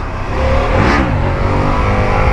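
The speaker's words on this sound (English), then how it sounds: "I figured out how to turn off traction control and ABS, and it's a 1250cc V-twin, so it should have plenty of oomph" Harley-Davidson 1250cc V-twin adventure touring motorcycle engine, with traction control and ABS switched off, revs loud and close in a steady roar that climbs and falls once near the middle, without any talk.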